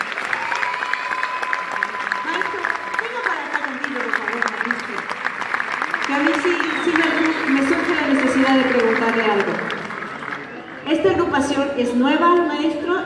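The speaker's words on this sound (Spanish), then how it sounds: "Un aplauso para ellos, por favor." Applause for folk dance performers rises in the background beneath continuous talking and music-like tones, with a brief break before a louder stretch near the end.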